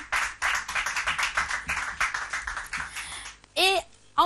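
Studio audience on a French TV quiz show claps in an uneven, fairly close burst of hands with some chatter and a brief voice near the end.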